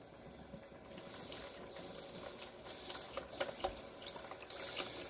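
Chicken broth pours steadily into a multi-cooker in a soft, continuous stream with a slight gurgle, quiet and close.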